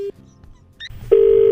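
A telephone is dialed: a brief tone blip, a faint pause, then a loud, steady electronic beep lasting about half a second.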